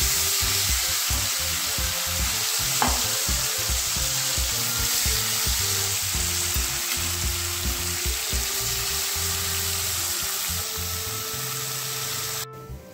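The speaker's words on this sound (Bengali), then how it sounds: "এদিকে আমি চিংড়ি মাছগুলো একে একে দিয়ে দেবো।" Prawns fry in hot oil in a wok, giving a loud, continuous crackling sizzle with scraping stir sounds throughout, close up and with no voices.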